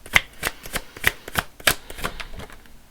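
A deck of tarot cards is shuffled by hand in a series of quick riffling bursts with short gaps between them, close and clear.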